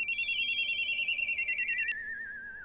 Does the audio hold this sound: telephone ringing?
yes